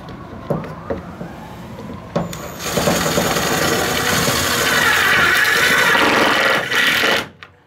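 A power driver runs self-tapping screws through the aluminum of a 2000 Karavan snowmobile trailer: a few short taps, then one sustained, rising whine lasting about five seconds that stops abruptly, close and loud.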